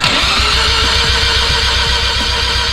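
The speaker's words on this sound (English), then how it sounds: "It's on ethanol. It's a cold start. It's a rotary." A rotary-engined car cold-starting on ethanol fuel, its engine cranking and catching into a loud, steady, pulsing idle close by, with no talk over it.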